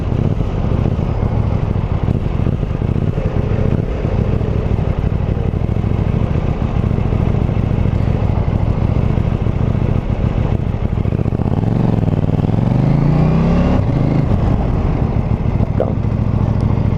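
KTM Duke 790 motorcycle accelerating hard from a standstill, a loud continuous engine roar with rising pitch sweeps toward the end as it revs through gears, close up with wind rumble.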